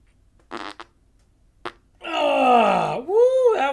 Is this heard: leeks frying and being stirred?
no